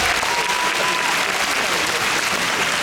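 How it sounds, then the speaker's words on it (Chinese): Dense, steady audience applause fills a concert hall at a Taiwanese singer's show, honouring the arranger of a song: continuous close clapping with no breaks and no voices. "给他掌声啊！"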